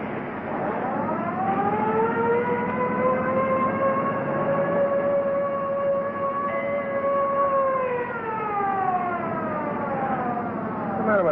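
Police car siren wailing loudly in a long, steady rising and falling howl from an old 1930s film, sustained for several seconds with a faint engine rumble beneath.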